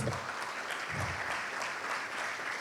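Conference audience applauding for a speaker on a stage, a dense, steady wash of clapping that sustains evenly throughout, fairly distant and moderate in level.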